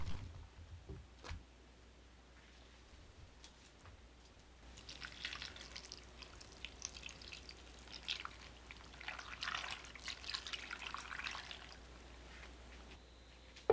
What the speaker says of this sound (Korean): 물 600ml를 부어 끓입니다